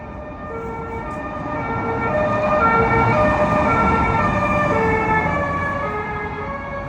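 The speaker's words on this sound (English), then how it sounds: "they drive around with their lights and sirens just for show" An emergency vehicle siren wails on a Paris street, its steady tones swelling louder as it approaches and passes close by, over a bed of traffic noise.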